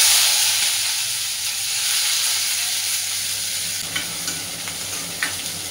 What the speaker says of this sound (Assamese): আৰু এতিয়া মই ইয়াতে দিছোঁ পিঁয়াজ।